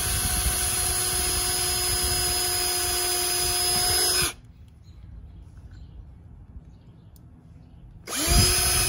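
A power drill with a 330 bit bores into a Carolina Skiff boat hull, its steady loud whine running about four seconds, stopping, then starting again near the end.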